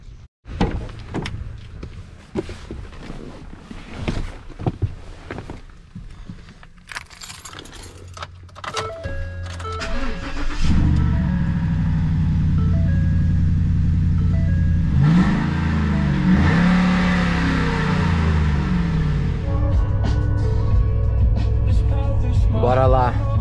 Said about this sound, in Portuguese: Ford Raptor. Deve ter uns 600 cavalos.